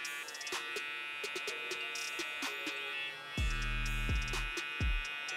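Electric hair clippers fitted with a #1 guard trimming facial hair during a bald fade at a barbershop, a steady close buzzing drone with brief clicks, shifting to a lower, heavier buzz near the end.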